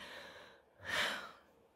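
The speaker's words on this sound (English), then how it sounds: "my dog is snoring" A single soft, breathy snore rises and fades, close by and quiet, like a dog exhaling heavily in sleep.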